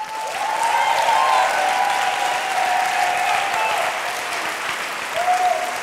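An audience at a charity auction applauds in a sustained, loud burst of many hands clapping, while a voice talks over it throughout.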